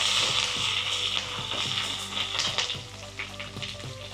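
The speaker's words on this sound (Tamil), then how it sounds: "காஞ்ச மிளகாய், கருவேப்பிலை, ஒரு வதக்கிட்டு" Dried red chillies and curry leaves sautéing in hot oil for lemon rice, giving a continuous bright sizzle with occasional stirring clicks, close and steady, with no talking.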